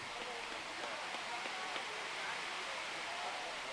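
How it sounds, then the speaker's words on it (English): Rain falls on a baseball field during a 2013 NAC tournament game, giving an even, constant hiss of moderate loudness with faint patters and no clear pauses. "the rain starts coming down a little harder"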